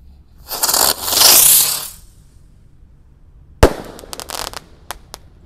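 Ski Cruiser firecracker going off, first a roaring hissing burst lasting over a second, then a sharp loud bang followed by a rapid scatter of crackling pops fading out.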